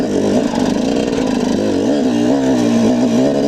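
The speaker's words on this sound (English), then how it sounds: "Me and this kid are now trying to get my dirt bike started for like a half hour." Dirt bike engine running loud and close after a long struggle to start it, a steady buzzing drone with wavering pitch as the throttle shifts, no pauses or talk.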